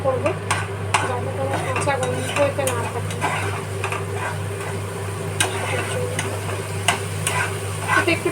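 Masala is stirred and fried in oil for a koi fish curry with potato and tomato, cooked until the oil separates: a steady sizzle under repeated scraping strokes and occasional sharp utensil taps, close, over a constant low hum.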